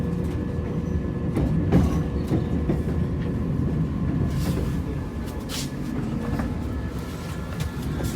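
A passenger train rolls in toward Nottingham station, heard from inside the carriage. A steady low rumble with faint rail clatter and occasional clicks continues evenly throughout, without talk.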